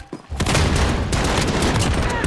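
Twin Desert Eagle pistols fire in the Call of Duty Warzone video game, a loud, dense, unbroken burst of close gunshots that starts abruptly and runs to the end.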